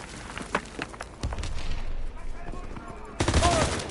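Shotgun and other gunfire in a WW2 video game battle: scattered sharp shots early, then a dense, loud burst of firing near the end, with game voices and radio chatter mixed in.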